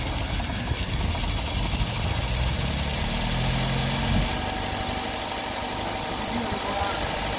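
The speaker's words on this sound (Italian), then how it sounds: "credo che ci sia un carburatore che non funziona molto bene, quindi fa fatica, ecco, a tenere il minimo" An Alfa Romeo 75 engine with a faulty carburettor idles unevenly, a steady close mechanical drone with a faint knock whose pitch wavers and dips midway, while someone talks over it.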